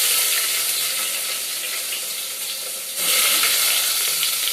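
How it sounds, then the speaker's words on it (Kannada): Cashews and onions sizzling hard in hot oil for a biriyani, a loud continuous hiss that jumps up sharply partway through as more goes into the pan. "ಇವಾಗ ಗೋಡಂಬಿ ಹಾಕೊಂತ ಇದ್ದೀನಿ"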